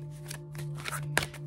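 A deck of tarot cards is shuffled close up. A quick riffle of papery flicks and snaps runs over a low steady hum, and no one talks.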